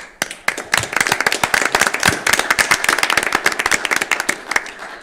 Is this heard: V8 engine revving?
no